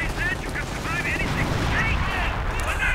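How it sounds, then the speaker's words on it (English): Heavy artillery and gunfire in a multiplayer strategy video game battle between American and German forces: dense, continuous rumbling explosions and rattling shots heard under a commentator's steady talk. "heavy artillery continues to rain down"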